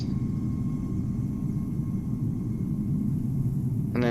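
A simulated Etihad A350-1000 airliner at Amsterdam Schiphol in cloudy weather, a steady low jet engine rumble that holds level throughout, with a brief brighter burst at the very end.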